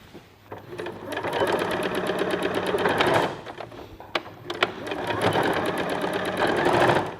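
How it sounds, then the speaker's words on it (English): A sewing machine stitches fabric for a clothing alteration in two long runs of steady, rapid needle clatter, close and loud, separated by a brief pause. "I'm going to start stitching from around here"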